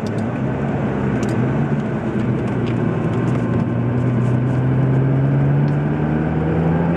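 McLaren MP4-12C driving over bumpy road, heard from inside the cabin as a steady engine drone with rising pitch and road rumble, continuous and fairly loud, with no talking.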